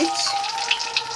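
Dried chillies dropped into hot oil for a dal, a brief close crackling sizzle lasting about a second.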